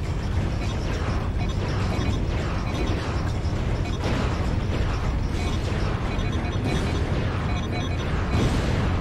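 Dense, loud rumbling cannon blasts and crashes in the video game Ratchet & Clank: Gladiator roll on continuously, booming explosions layered over one another with no pauses.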